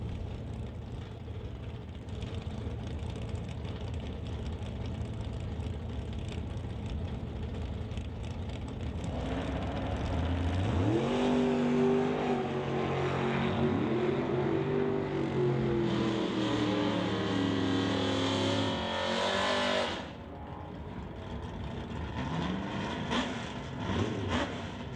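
Drag race between a Plymouth and the Rad Torque Systems S10 at the strip, with loud engines rumbling at the line and then a long, rising roar as the cars launch and pull away before the sound drops off.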